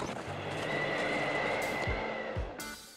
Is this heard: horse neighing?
yes